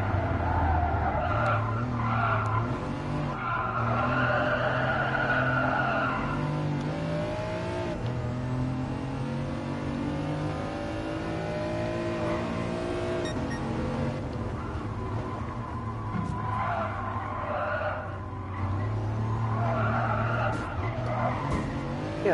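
A car in the Gran Turismo Sport racing game skids repeatedly with loud, sustained tire squeals over a revving engine, rising and falling across the whole stretch without pause.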